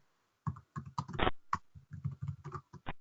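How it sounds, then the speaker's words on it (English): Keys on a computer keyboard clatter in short irregular bursts, close and crisp, with a heavier thump midway as if a larger key is struck, in a quiet room. "we can just start typing in this text box"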